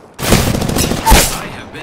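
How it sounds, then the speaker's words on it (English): A rapid burst of automatic gunfire from the video game Apex Legends, loud and close, rattling for about a second with a heavier boom near the end, then quickly fading out. "The enemies are shooting at me."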